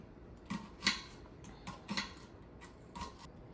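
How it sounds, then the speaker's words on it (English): Onions chopped on a board with a finger-protecting kitchen gadget: a few sharp knife taps land irregularly, moderately close, over faint room background with no talking. "We'll just start by chopping our onions."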